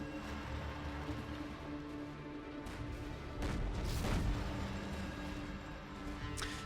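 Artillery fire rumbles in a real-time strategy game battle on the Stonehenge map, with deep booms swelling midway over steady background battle noise and a brief burst near the end, fairly faint overall.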